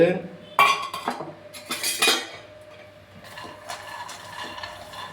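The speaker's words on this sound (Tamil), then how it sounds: "300 கிராம் வேர்க்கடலை போட்டு வறுத்து" Three hundred grams of peanuts dry-roasting in a pan, heard as loud, close bursts of rattling and utensil scraping that settle into softer, intermittent stirring clatter.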